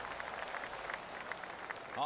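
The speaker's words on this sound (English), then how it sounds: "I can hear the golf claps around the course" Golf spectators in PGA Tour 2K25 give soft, distant polite applause, a thin patter of claps from around the course that stays faint throughout.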